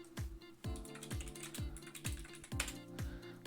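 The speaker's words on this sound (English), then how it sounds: "So you're going to hear a lot of typing" Typing on a computer keyboard, a string of distinct clacking keystrokes in uneven rhythm, close and clear with no talking.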